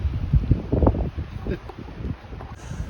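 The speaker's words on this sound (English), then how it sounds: "it's a little windy out here today" Gusty wind buffets the microphone outdoors in an orchard during fruit tree pruning, producing low rumbling bursts and rustle.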